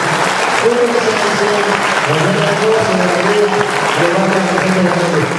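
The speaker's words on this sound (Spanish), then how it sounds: "Bienvenido, un aplauso." Churchgoers clap to welcome a guest at a Catholic-Protestant dialogue event, a steady wash of applause with voices talking and calling out over it.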